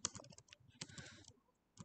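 Keys clack on a computer keyboard as a web address is typed into a browser, in quick bursts of close, crisp taps with a short pause before a final pair of strokes.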